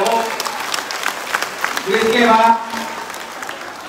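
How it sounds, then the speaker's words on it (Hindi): Applause for a devotee at a Gaura Purnima temple gathering, scattered claps mixed with voices and a brief spoken phrase, rising slightly midway before thinning out. "जोरदार मधुसूदन प्रभु जी की तालियां हो"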